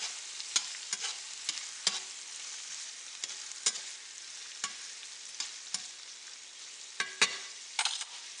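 Oil and butter fry in a pan for Chinese-style fried rice, giving a steady, soft sizzle broken by irregular clicks and scrapes of stirring against the pan.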